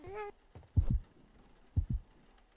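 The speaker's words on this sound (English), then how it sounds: "I heard my heartbeat." Two paired heartbeat thumps, low and deep, beat steadily in the horror game Baby In Yellow after a brief tonal chime, with quiet gaps between them.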